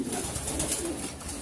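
Soft pigeon cooing close by, low throaty murmurs repeating over a steady background hum.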